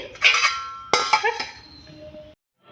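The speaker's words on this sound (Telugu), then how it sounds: "ఇలా బాగా మొత్తం అన్నీ కలిసేట్టు కలిపేసుకొని పెట్టుకోవాలి" A spoon clatters against a bowl while corn dosa batter is mixed, two bursts of clinking and scraping, close and fairly loud, then quiet.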